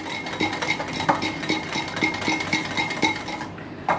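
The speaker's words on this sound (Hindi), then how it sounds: "अब इसमें मैं 4 बड़े चम्मच मिक्स कर रही हूँ बूंदी।" A spoon stirs boondi into yogurt in a bowl to make raita, clinking against the sides in a quick, regular rhythm of close, bright taps that continue evenly for several seconds with no voices.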